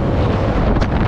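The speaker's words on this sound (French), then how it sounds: "il y a le vent de l'altitude et en plus le vent des camions et les convois exceptionnels" Strong wind buffets the microphone while cycling across a high bridge near Honfleur and Le Havre, a loud, steady roaring gust that fills the moment with no talking.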